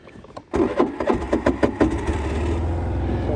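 A Suzuki Burgman Street 125 scooter engine starts up, revs in several quick bursts, then settles into a steady close idle with no talk.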